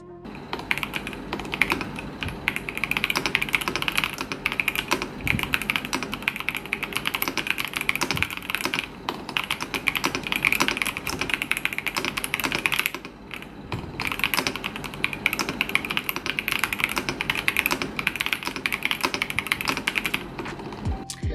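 Steady typing on an Epomaker EK68 mechanical keyboard, a dense run of clicky keystrokes continuing for a long stretch with only brief pauses, close and moderately loud.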